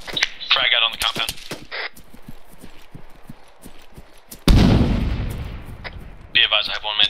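A frag grenade blast in ARMA 3 lands as a sudden loud boom partway through, and scattered gunshots crack before and after it. Radio-style voices talk over the start and end of the combat noise.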